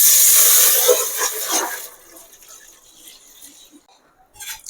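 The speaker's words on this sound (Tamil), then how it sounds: "நம்ம இதில் ஒரு ஒரு டம்ளர் அளவுக்கு தண்ணி ஊற்றிக்கிறோம்" About a tumbler of water is poured into a pan, gushing loudly for about two seconds, then trickling and splashing more quietly before fading, with a faint clink near the end.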